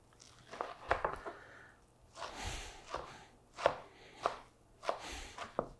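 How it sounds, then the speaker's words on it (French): A kitchen knife chops cooked spinach on a cutting board into small pieces, a run of sharp, close knocks in uneven clusters with brief pauses between them. "on va venir les couper parce que pour que ça reste en petits morceaux."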